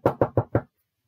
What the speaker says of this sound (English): So again, the servant knocked on the gates.